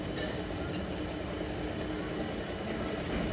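A 2014 Dodge Durango 3.6L 4x4, suspected of misfiring, idles steadily nearby, a continuous low rumbling engine drone with no other sounds.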